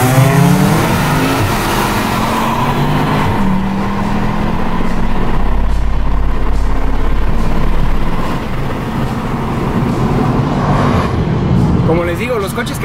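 A supercharged Cupra engine roars and accelerates hard in a drag race, its pitch sweeping upward through the gears, loud and close throughout.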